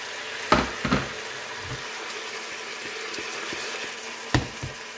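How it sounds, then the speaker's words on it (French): A chicken pan for couscous is deglazed with a little water, giving a few sharp hissing bursts over a soft, steady sizzle nearby. "moi je vais déglacer un peu, donc avec un peu d'eau"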